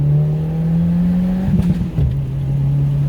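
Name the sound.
2022 Subaru WRX engine accelerating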